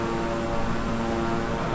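Twin-engine King Air 350i turboprop in Microsoft Flight Simulator, a steady droning propeller and engine hum held at an even level throughout, with no talk over it.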